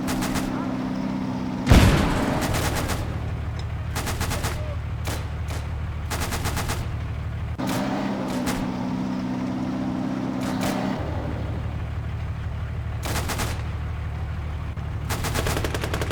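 Gunfire and machine-gun bursts aimed at a fleeing tank crew in the WWII strategy game Gates of Hell, repeated rapid bursts over a steady engine drone, with one louder boom early on.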